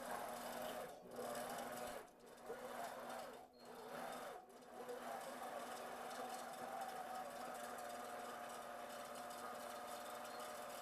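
A computerized long arm sewing machine starts stitching with a steady, fast, quiet mechanical hum and whir, briefly dipping a few times early on before running evenly.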